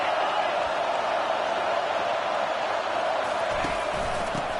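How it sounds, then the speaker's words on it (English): Roaring stadium crowd at a college football game in an NCAA video game, a loud steady wash of cheering and noise that holds throughout without a break. "Listen to this crowd."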